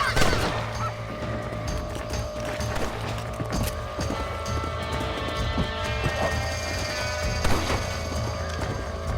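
Chickens cluck and squawk in a farmyard during a coyote attack in the video game Red Dead Redemption, mixed with a steady bed of game ambience and animal noises throughout, with occasional louder bursts.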